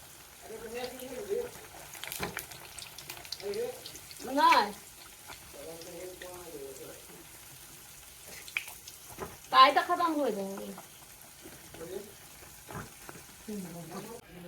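Hot oil sizzles steadily as puris fry through the whole stretch while a person talks over it in bursts, with a few louder clatters now and then.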